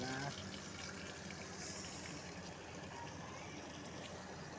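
Steady rushing of water flowing from a tap, a continuous broadband hiss with no clear pauses, heard close and fairly loud.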